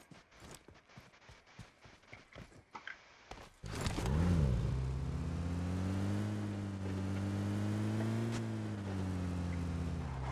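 A video-game car engine starts abruptly and runs loud and steady, with rising and falling harmonic tones as it revs, after a stretch of clicky game noise.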